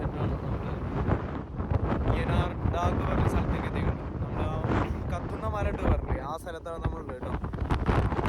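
Strong wind at Yanar Dag in Azerbaijan: heavy, gusting wind buffets the microphone in constant rumbling roars, loud and close, with people talking faintly beneath it.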